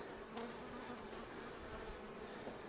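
Honey bees buzz around a hive, a faint, steady, dense hum of many insects with a slight pitched drone and no voices.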